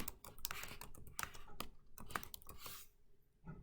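A computer keyboard clatters with quick, uneven keystrokes as a quiz title is typed into an online form, close and fairly soft, with a short pause before a final tap.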